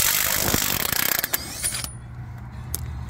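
An Avhrit cordless impact wrench hammering on the lug nuts of an eight-lug double-axle hydraulic tilt dump trailer, a loud rapid rattling burst that stops within a second, followed by a few quiet mechanical clicks.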